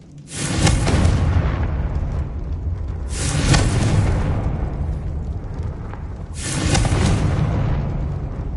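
Bombarda and Confringo spells exploding one after another in Hogwarts Legacy: three loud, roaring blasts at intervals of about three seconds, each with a sharp crack and a rumbling tail, and no voices.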